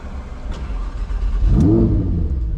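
A Lamborghini Huracan EVO Spyder engine fires up with a starter whir and then a loud, close, rising rev that settles into a strong idle rumble.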